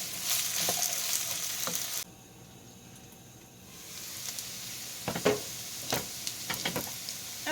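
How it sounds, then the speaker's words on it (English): Potatoes brown in a hot pan in a home kitchen, giving a soft, steady sizzle with scattered crackles and stirring clatter. The frying drops to a quieter hiss partway through, then the irregular pops and scrapes return. "we're going to get these browning and get these cooked up"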